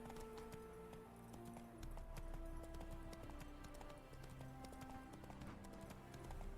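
Roach, Geralt's horse in The Witcher 3, galloping with rapid rhythmic hoofbeats over a continuous game soundtrack, close and steady throughout.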